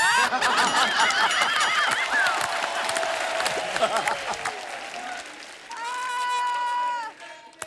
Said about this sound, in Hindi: जोरदार तालियां गौरव के लिए।